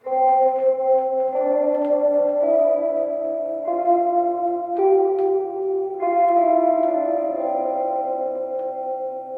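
A semi-hollow guitar runs through a Supro Royale amp in Class AB with the reverb turned almost all the way up, strumming sustained clean chords that change every second or so and ring into a lush wash, steady and close, with no voices.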